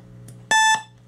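The box timer alarm of an Avaya paging system sounds once as a short, loud electronic tone that holds steady for about a quarter second, preceded by a faint click, over a quiet background hum.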